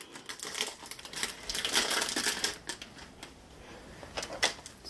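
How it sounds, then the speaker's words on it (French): Plastic packaging of a diamond painting kit crinkles and rustles close by as it is unwrapped, in a steady run of crackling handling noise with a few sharper peaks. "Et là, on va aller déballer ça."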